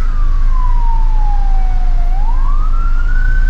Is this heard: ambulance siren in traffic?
yes